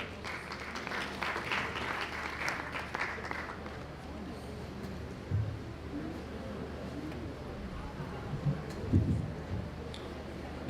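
A conference audience at a College of Education event applauds the opening address speaker with soft, distant clapping in a large hall, tapering off under background murmur and a few louder knocks.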